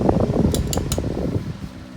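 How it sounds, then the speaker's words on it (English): An electric bedroom fan with a rather weak motor for its age and size runs close by, giving a steady whooshing airflow with a low rumble and a few faint metallic ticks, with no talking. "Output's a lot of air considering it has a pretty weak motor for its age and size"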